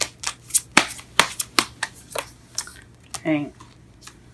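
Tarot cards are shuffled by hand in a rapid run of crisp riffling snaps and flicks, loud and close, with a brief spoken word near the end.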